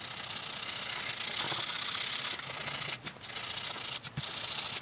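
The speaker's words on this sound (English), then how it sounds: "I'm sanding the z-poxy out of there, off the top" Steady abrasive rasping of sandpaper on a Gibson Les Paul guitar top, wearing back Z-Poxy grain filler, continuous and close with a couple of brief pauses near the end.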